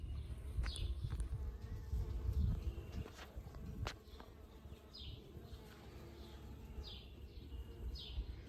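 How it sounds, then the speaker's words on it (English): Honeybees hum around salvia flowers in a garden, a faint, soft buzz with occasional bird chirps in the background and no talking. "Let's see if we can watch some of the honeybees."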